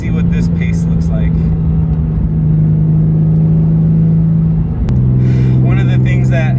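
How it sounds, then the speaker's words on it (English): Two white Porsche 911s and a Mazda RX-7 drive together, heard as a loud, constant engine drone that drops in pitch after a gear change near the end, with voice-like sounds at the start and finish. "2 white 911s and an RX-7 in the middle. Let's see what this pace looks like."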